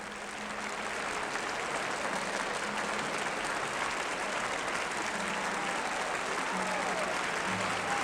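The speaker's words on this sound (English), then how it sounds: "acknowledging the warm applause of our audience here in the Academy of Music" Concert audience applauding at the Academy of Music in Philadelphia after a live orchestral performance of French music, a steady, dense wash of clapping from a large hall crowd that holds evenly throughout.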